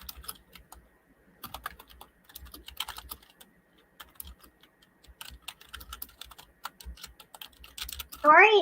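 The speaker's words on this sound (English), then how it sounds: "pounding them keys" Fast typing on a computer keyboard rattles in quick, dense bursts of clicks with brief pauses, close to the microphone, and a voice speaks near the end.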